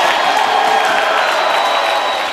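A basketball arena crowd at an NBB game between Winner and Mogi das Cruzes roars after a dunk, a loud, sustained wall of cheering and whooping that carries steadily throughout.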